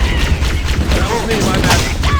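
Heavy gunfire and explosive booms in Halo: Combat Evolved, loud and continuous, with shouted voices over the combat.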